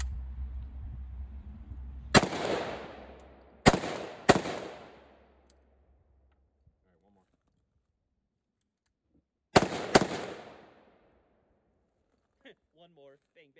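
A SIG MCX Virtus rifle fires five sharp, loud shots at close range, a single crack, then a quick pair, a pause, and a final double, each ringing out with echo before near silence.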